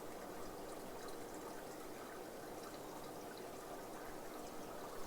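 Water mixed with air gushing out of a fish tank drain pipe, a steady loud rushing pour that holds constant throughout with no talk.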